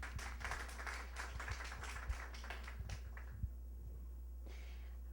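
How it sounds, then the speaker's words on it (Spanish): Audience applause at a pediatric endocrinology lecture, a dense burst of many hands clapping that fades out over a few seconds, followed by a brief faint second patter. "Aquí recibimos con un fuerte aplauso."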